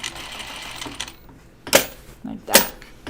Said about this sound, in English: I'm pretty out of practice with sewing a pocket on my serger